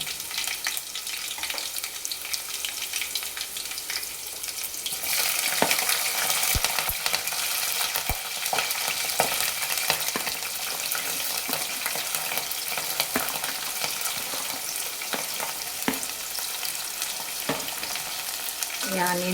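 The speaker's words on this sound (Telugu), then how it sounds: "మనం ఆనియన్స్ పచ్చిమిర్చి అయితే వేసేసుకుందాం" Onions and green chillies fry in oil for okra curry, giving a continuous loud sizzle. The sizzle swells as they go in and is joined by intermittent stirring clatter.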